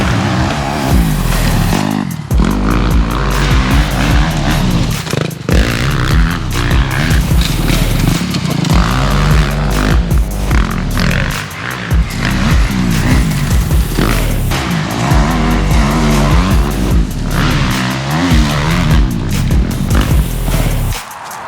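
Off-road dirt bikes, a Kawasaki KX250X or a Beta 350 Race Edition, roar loud and close, the engine note continuous and raspy with rising and falling revs and no breaks throughout.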